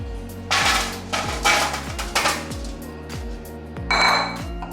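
Brussels sprouts are set down one after another on a foil-lined baking tray, making about ten close, hollow metallic knocks and clinks at an uneven pace.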